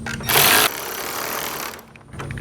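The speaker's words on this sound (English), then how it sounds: "let's go ahead and tighten these nuts a little bit, little by little" A power tool tightens nuts on a light bar mount for a 2021 RAM 1500 TRX, with a short loud buzzing burst followed by a lower steady whir that fades near the end, close up.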